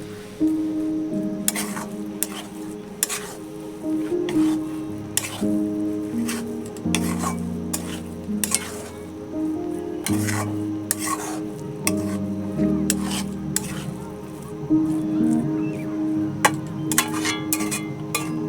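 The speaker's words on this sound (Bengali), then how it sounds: "এবার সব একসঙ্গে মিশিয়ে দেব।" A spoon stirs chicken tehari ingredients together in a cooking pot, with repeated scraping strokes and sharp metallic clinks at a steady, uneven rhythm. Soft sizzling and background music run underneath.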